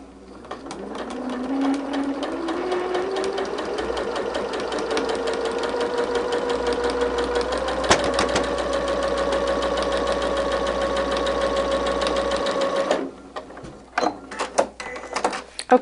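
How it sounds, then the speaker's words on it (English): A sewing machine stitches a quarter-inch seam while piecing a quilt block. It whirs up quickly into a steady, loud mechanical hum, runs at an even speed, then stops, leaving a few soft handling clicks. "I've got my machine set to stitch at a quarter inch"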